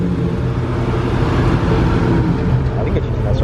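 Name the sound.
Dodge Challenger SRT engine running on the freeway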